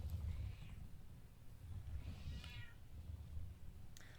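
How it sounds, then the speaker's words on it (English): A loud, insistent house cat meows a couple of times over a steady low rumble, with a short chirpy call near the end; no one speaks. "That is a loud, obnoxious cat you hear."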